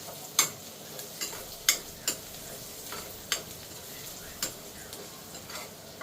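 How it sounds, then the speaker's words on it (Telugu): Onions with chilli powder, turmeric and salt are stirred in a pan, a soft steady sizzle punctuated by about eight sharp spatula taps and scrapes at an uneven pace, fairly quiet and with no talking. "ఇప్పుడు బాగా ఇది కలుపుతాం."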